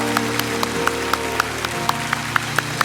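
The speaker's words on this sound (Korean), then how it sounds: "우선 우레와 같은 박수로 저들을 축복하기 원합니다." A church congregation claps in an even, steady beat, crisp individual claps about a quarter second apart over sustained held tones from music in the hall.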